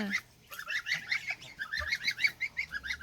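Young goose honks repeatedly in quick, high-pitched, squeaky bursts, a steady stream of calls close by with a brief pause near the start.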